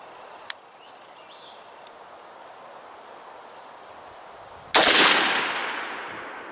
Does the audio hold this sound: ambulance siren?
no